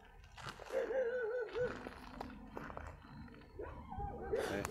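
Dogs barking, yipping and whimpering at night on a rural road, scattered short calls and whines at middle distance, with faint background noise between them.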